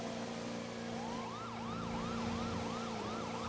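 An ambulance siren in a GTA roleplay game wails in rapid, repeating rise-and-fall sweeps over a steady engine drone, loud and close throughout.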